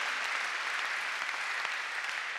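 A church congregation at a Sunday service claps loudly and continuously, a dense, even wash of applause lasting the whole moment.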